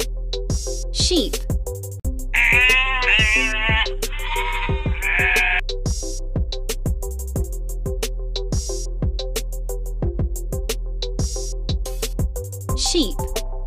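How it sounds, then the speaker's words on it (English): A sheep gives a long, wavering bleat, then a second one, over a bouncy children's music track with a steady beat. "Sheep."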